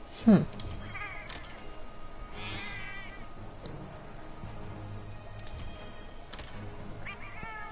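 A cat meows once, sharp and fairly loud near the start, in the video game Monster Hunter World Iceborne, followed by faint game sounds and a person talking quietly.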